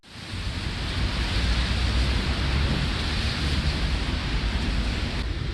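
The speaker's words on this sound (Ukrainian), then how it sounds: "дощ валюрить" Steady, dense hiss of heavy rain filling the whole stretch, loud and close with no voices.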